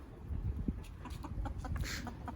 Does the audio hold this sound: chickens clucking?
yes